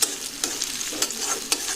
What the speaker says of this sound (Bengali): বাগানের জন্য আমি এখানে পেঁয়াজ ভাজতেছি, বেরেস্তা করতেছি।